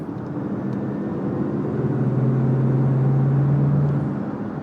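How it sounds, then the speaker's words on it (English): Steady engine rumble from inside a 2023 Mazda CX-5 Signature Turbo AWD, with a rising turbocharger whine building over a few seconds and then easing off. "you can hear that turbo"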